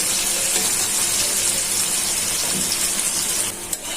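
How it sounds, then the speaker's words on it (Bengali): Onion fries in oil in a pan, a steady dense sizzle that holds loud and unbroken, with a small clatter near the end. "পেঁয়াজটা ভালো করে ভাজা হয়ে গেছে"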